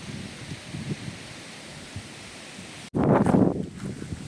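Soft wind gusts and rustling blow steadily across a village in the afternoon, then a louder buffeting burst of wind noise hits the microphone near the end.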